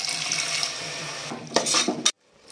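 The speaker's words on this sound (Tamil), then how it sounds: "மசாலா சேர்த்துனதுக்கப்புறம் கொஞ்சமாக தண்ணி சேர்த்துக்கலாம்" A little water is poured into a sizzling pan of masala, giving a steady hissing rush with a few clinks of a utensil before it cuts off abruptly, close by with no speech.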